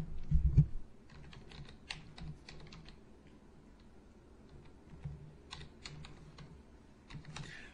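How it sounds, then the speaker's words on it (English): Someone types on a computer keyboard, with soft, scattered keystrokes in short bursts after a louder bump at the start, close and quiet, with no talking. "we can click add new and type in his name"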